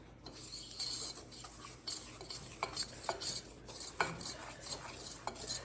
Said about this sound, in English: Then we're gonna whisk this together.